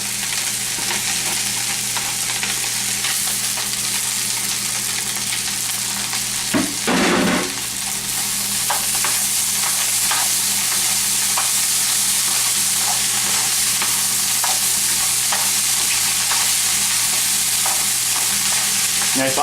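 Vegetables that were drained sizzle and crackle in a pan as they are stir-fried with rice, a steady broadband hiss of frying with scraping stirring strokes, loud and close, with no voices.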